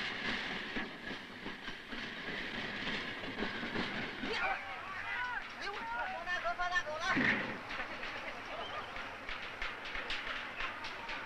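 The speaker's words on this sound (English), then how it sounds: "These trains are called petroleum dragons." A long oil tanker train rolls past with a steady rumble and rhythmic clanking of wheels over rail joints, loud and close throughout.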